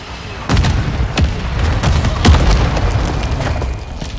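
A frag grenade detonates in Call of Duty: Modern Warfare II multiplayer, a loud booming blast with a rolling, rumbling tail and a few sharper cracks layered through it.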